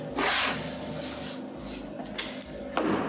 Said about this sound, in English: we actually tape off the edges so we don't get spray paint on them